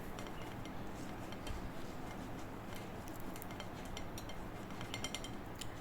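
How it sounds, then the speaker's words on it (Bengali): Watermelon pulp is pressed and rubbed to squeeze out its juice, producing faint, scattered metallic clinks and soft scraping against a quiet background. "একটু চাপ দিয়ে ঘষলেই রসটা কিন্তু খুব সহজেই বেরিয়ে আসে।"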